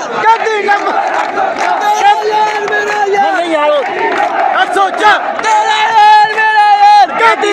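A dense crowd roars and chants political slogans in support of Imran Khan at a musical concert in Okara, Pakistan, loud and continuous for the whole stretch, with many overlapping voices shouting together and rising in surges.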